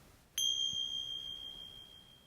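A single bright bell or chime is struck once at the close of a yoga session, its clear tone ringing out and slowly fading over a quiet background.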